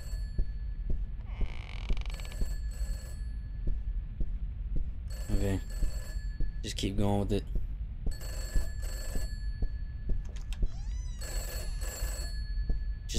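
An old telephone's bell rings in bursts from a handset sitting on a table in the Peter's House indie horror game, repeating several times under a low throbbing drone while someone talks briefly.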